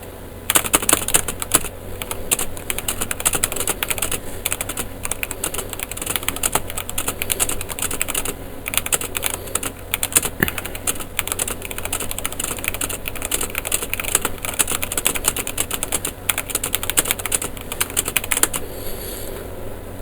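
Rapid, continuous keystrokes rattle on a computer keyboard during a number-pack typing practice drill, close and crisp, with dense irregular clicks for the full twenty seconds.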